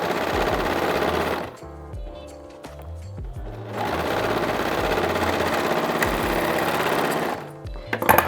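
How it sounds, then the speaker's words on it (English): An overlocker hums loud and fast while trimming fabric and stitching a jumper seam, with two long runs broken by a quieter gap. "I'm trimming a little bit off as I overlock so that my seam allowance is still"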